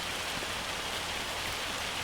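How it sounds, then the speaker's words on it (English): Heavy hail mixed with rain falling in the farming video game Farming Simulator 25, a dense steady hiss of pattering drops and pellets throughout, fairly loud with no talk. "it's a lot of hail in that."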